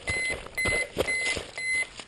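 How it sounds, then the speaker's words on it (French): An alarm ringtone beeps in a repeating pattern of short, steady electronic tones, fairly loud and close, with faint background noise between the beeps. "c'est quoi cette sonnerie?"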